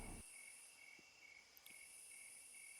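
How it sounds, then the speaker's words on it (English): Cicadas droning steadily in a forest, a faint, even high-pitched buzz with a few soft clicks, quiet ambience with no voices. "You hear the sound of the forest creatures, cicadas"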